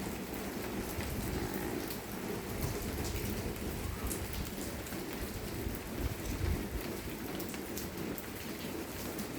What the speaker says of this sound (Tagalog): Umuulan na naman ang Singapore.